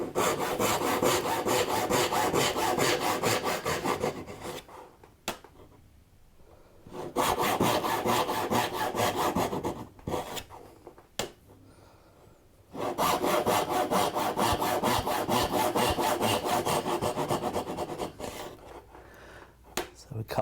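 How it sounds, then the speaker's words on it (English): A Japanese saw cuts houndstooth dovetails in wood against a magnetic dovetail guide, three long bursts of steady rhythmic rasping strokes separated by short quiet pauses, close and clear. "I'm going to use my Japanese saw and my magnetic dovetail guide"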